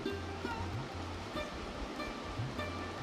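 Black mustard seeds and green chilies frying in hot oil: a steady, moderate sizzling hiss with a low rumbling background and faint intermittent hums.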